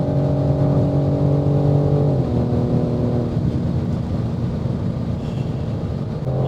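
A 510 hp BMW M4 G82 accelerates hard on the Autobahn, its loud engine droning steadily from inside the cabin with a pitch shift partway through as the revs change, and road and wind noise underneath.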